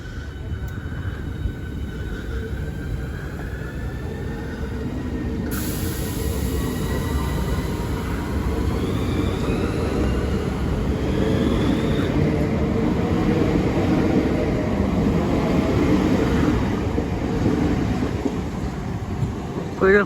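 A Southeastern train at Deal railway station gives a loud, steady low rumble that builds and holds throughout, with faint tonal whines above and a high constant tone in the upper range.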